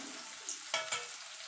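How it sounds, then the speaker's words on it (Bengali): Paneer cubes fry quietly in hot oil for paneer butter masala, a soft steady hiss broken by two brief spatula scrapes or lifts. "দেখুন বন্ধুরা, পনিরগুলো ভাজা হয়ে গেছে। এবার পনিরগুলোকে আমি তুলে নেব।"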